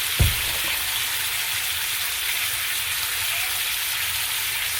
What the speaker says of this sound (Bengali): মশলাটাকে ভালো করে একটু ভেজে নেব।